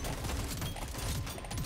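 A burst-fire weapon in Deep Rock Galactic: Survivor rattles off dense, rapid volleys of gunfire, loud and continuous across the short stretch, with game sound effects layered on top.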